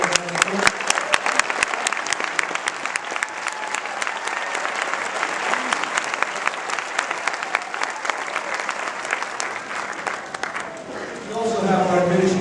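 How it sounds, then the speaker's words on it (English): Audience applauding teachers at a middle school graduation ceremony, with sustained, dense clapping from a large crowd across the whole stretch and a slight swell near the end. "if they would just stand, we give them a round of applause"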